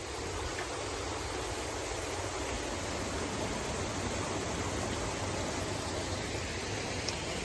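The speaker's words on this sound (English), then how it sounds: "Come along a waterfall here that's called Devil's Cascade." Devil's Cascade, a waterfall on a wet day along the Sioux-Hustler Trail in the Boundary Waters, rushes in a dense, unbroken roar that stays loud and even throughout, with no one speaking.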